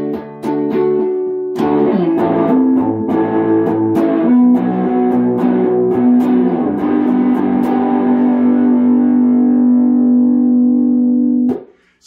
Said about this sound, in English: It gives you distortion.